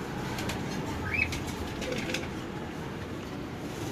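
Pigeons at a pigeon farm, including Andalusian-coloured birds, give a few brief fluttering wingbeats over a steady background hum.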